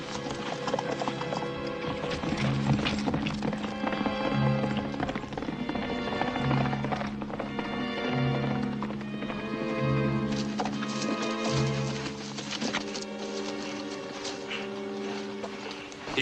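Horses gallop in a 1952 Western film, a loud, fast, continuous drumming of hooves with occasional whinnies, accompanied by music throughout.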